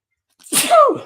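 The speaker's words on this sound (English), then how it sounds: "Now I'm going to sneeze, so I do apologize." A single sharp human sneeze, close and loud, with a quick intake then an explosive burst, alone in the clip.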